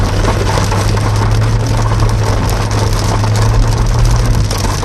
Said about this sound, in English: I don't know where the rain came from.